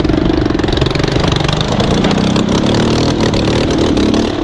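A motorcycle engine idles loudly and steadily up close after riding through a mountain stream, a continuous rough throb with no talk.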